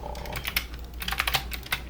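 Keyboard shortcuts typed while working in 3ds Max, a quick run of light clicky keystrokes, some in quick pairs, close and moderately quiet over a low steady hum, with no talking.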